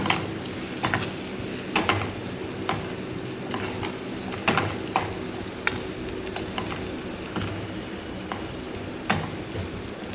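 Potato and carrot pieces frying with turmeric and spices in a pan while a spoon stirs them, giving a steady close sizzle broken by repeated scraping strokes against the metal.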